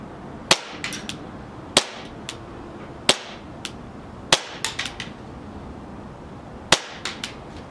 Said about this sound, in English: I'm gonna shoot to the left in the fence right here where my finger is.